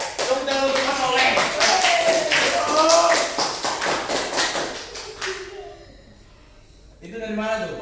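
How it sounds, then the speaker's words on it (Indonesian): Brisk group clapping from a small audience rewards a contestant's answer in a quiz simulation, about five seconds of close, rhythmic claps that die away before a voice speaks. "Tepuk tangan untuk Mas Soleh"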